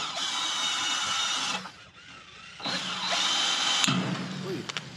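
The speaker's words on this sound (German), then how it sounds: "Ich bohre jetzt hier vor, damit die Blechschrauben gleich besser reingehen." A power drill with a 3 mm bit bores pilot holes for sheet-metal screws in two loud, close whining bursts separated by a short pause.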